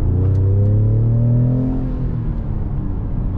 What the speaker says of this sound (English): Oh, this truck just pulls.